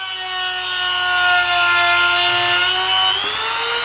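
A sheet of paper slices through a carrot, producing a sustained close rubbing, sawing rasp with a whining, squeaky tonal edge that holds steady for several seconds before shifting slightly near the end, with no talking.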